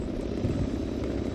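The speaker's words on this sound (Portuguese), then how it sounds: "Cuidado aí, ô helicóptero." Helicopter in the military video game Project Reality, heard as a steady, loud, dense rotor and engine drone that holds evenly throughout the short moment with no pauses.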